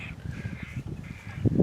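Crows caw repeatedly from trees by a fishing spot, a steady run of harsh calls at middle distance with no speech.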